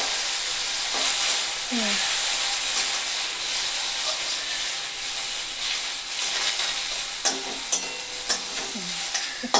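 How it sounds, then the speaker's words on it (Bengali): Greens sizzle and fry in hot oil with nigella seeds while being stirred, a steady bright hiss with scraping stir strokes, louder clacks near the end, and a brief murmur from a person. "এখন এই শাকটাকে একটু ভেজে নিতে হবে"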